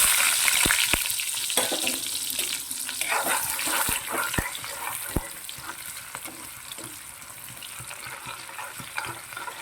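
Steady sizzling of mustard seeds frying in hot coconut oil, with crackles and sharp pops scattered throughout and a few light clinks.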